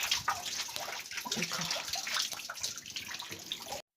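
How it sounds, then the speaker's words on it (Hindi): Meltwater from melting snow runs continuously with a steady splashing, trickling rush, close and fairly loud, before cutting off abruptly at the end; a brief spoken word is heard at the start. "ये रखा है क्योंकि बर्फ़ पिघल रही है ना, तो ये पूरा दिन पानी चलता रहेगा अब जब तक बर्फ़ है।"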